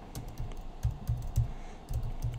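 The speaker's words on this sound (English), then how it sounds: "I'm going to start typing in something." Typing on a computer keyboard: quick clusters of soft, close key clicks in short uneven bursts with brief pauses between, alone and fairly quiet.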